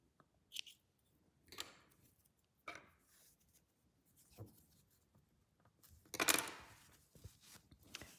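Scissors snip through crochet yarn after a blanket or scarf motif is finished, giving a few faint, separate crisp cuts and small rustles in a quiet room.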